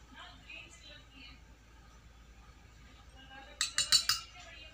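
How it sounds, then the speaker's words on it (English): After a quiet stretch, a spoon clinks sharply against a glass of water about four times in quick succession while cucumber seeds are stirred in, heard close and clear. "take a glass of water and mix it"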